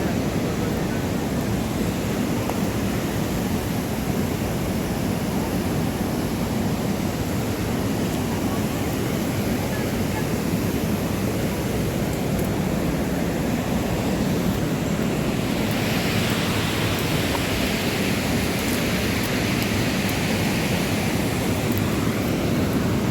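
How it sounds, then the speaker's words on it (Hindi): Fast-flowing water rushing down a mountain stream along a forest trail, a loud, continuous broadband roar with some wind noise, steady throughout. "तो ये देखिए गधेरे का तेज पानी का बहाव"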